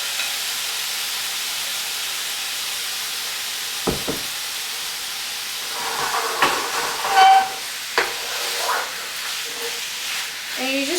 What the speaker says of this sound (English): When you hear the sizzles, that's exactly where you want your temperature to be for the meat.